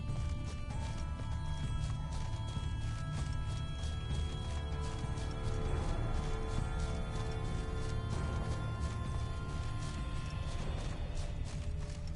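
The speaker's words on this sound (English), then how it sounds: "Horses must have gotten spooked." Spooked horses gallop in a PS4 video game, their hooves beating a steady, continuous clip-clop run with an occasional whinny, fairly close and loud above a constant low rumble and game music.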